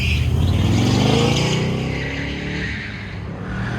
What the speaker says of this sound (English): Matthew Roberts in Grandma's Corvette.